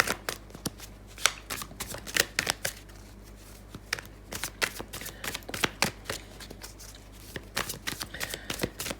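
A Commonplace Tarot card deck being shuffled by hand: repeated crisp riffles and soft card slaps in quick irregular bursts, close and fairly quiet.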